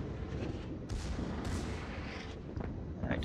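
Secondary guns on warships firing in World of Warships, a dense rolling barrage of booming shots layered over a constant roar of battle, heard alone without talk.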